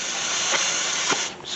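Brake cleaner sprays from an aerosol can onto the front brakes of a 2017 Toyota Camry, a close, steady hiss lasting about a second and a half with a couple of brief bursts.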